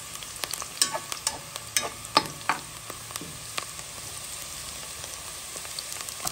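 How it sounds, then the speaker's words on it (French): Onion frying gently in a pan for shrimp with cabbage, a soft continuous sizzle broken by scattered crackles and a few sharper pops, heard up close with no talking. "Voilà mon oignon, ça va doucement, doucement."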